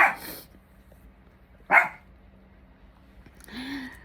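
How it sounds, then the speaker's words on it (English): A dog barks three times, spaced apart, each bark short and fairly close over a quiet background. "And I'm sorry that my dog is barking."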